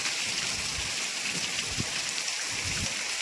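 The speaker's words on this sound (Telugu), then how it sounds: "ఇప్పుడు వచ్చేసి ఇంత వర్షం పడుతుంది" Steady, dense rain pours down with a constant hiss, and a few heavier drops patter nearby.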